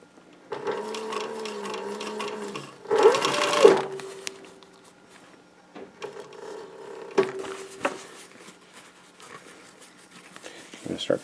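A sewing machine stitches a newsboy cap in short bursts of rapid mechanical whirring, pausing and restarting, with handling noises and a person talking quietly between runs.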